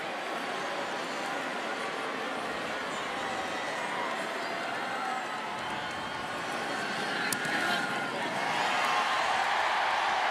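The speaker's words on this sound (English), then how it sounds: "Puts it right through, and a big cheer from the Alabama faithful" Alabama home stadium crowd at a college football game against Eastern Illinois, roaring in a broad, sustained cheer after a successful extra point kick, dense crowd noise swelling toward the end.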